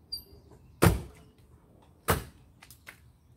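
Two doors of a 2003 Lincoln Town Car slam shut about a second apart, close by and solid, followed by a few lighter clicks.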